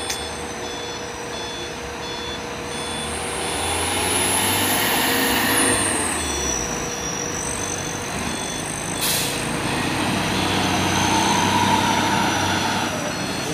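A palm oil truck labouring up the steep Bukit Kodok incline, its heavy engine rumbling steadily and loudly throughout with a continuous high beeping tone running over it and no talking.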